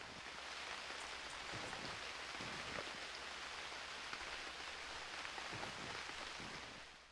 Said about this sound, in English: It's raining again, so we can't sleep.